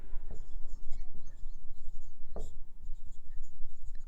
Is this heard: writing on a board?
yes